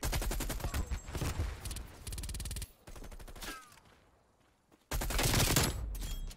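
An RPD light machine gun fires in a Nuketown match of a shooter video game, loud sustained automatic bursts with rapid regular shots, broken by a short pause before firing resumes.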